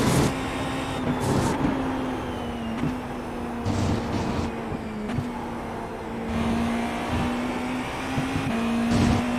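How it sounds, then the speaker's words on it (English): An IMSA prototype race car engine in iRacing holds a steady high droning note with slight rises and dips in pitch, running continuously at moderate volume without speech. "Start RPMing this engine."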